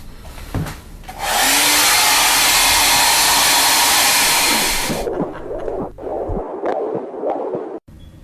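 A hair dryer blows hot air to dry wet paint on a painting, starting abruptly with a loud steady roar that runs about four seconds and then cuts off, leaving quieter handling sounds.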